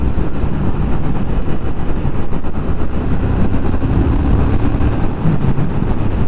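Steady engine drone of a 2021 Triumph Speed Twin motorcycle with a six-speed gearbox pulling up through the gears, loud and close with continuous wind rush and no clear break between shifts.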